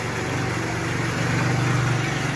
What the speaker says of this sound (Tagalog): Ready na ating motor dito. Nandal ko na, painit sa makina